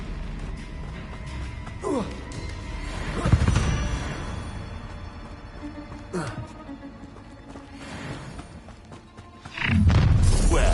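Spell blasts in Hogwarts Legacy from casting Expelliarmus, Bombarda and Confringo: several separate booming impacts spread over about ten seconds, the heaviest near the start and a sustained loud burst at the end, mixed with game noise and a voice.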